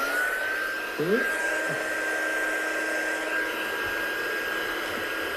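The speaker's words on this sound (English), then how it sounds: "I'm just going to use my heat gun now just to dry that off so it doesn't actually run away anywhere." A heat gun blows a steady, even airflow with a constant motor whine over wet ink on a handmade card, running continuously and close by with a faint voice briefly in the background.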